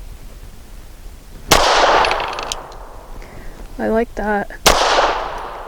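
Two sharp, loud pistol shots from an Archon Type B firing Stealth 165 grain rounds, about three seconds apart, each with a ringing decay, with someone speaking briefly between them.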